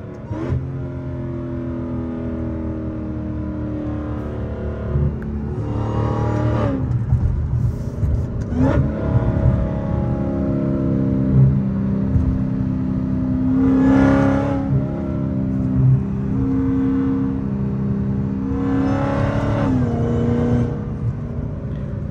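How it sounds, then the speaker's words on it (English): The engine of a 900HP Dodge Charger Hellcat on the highway roars loud and close, its pitch dropping and rising through several downshifts and revs with no talk over it. "Get a couple downshifts out there"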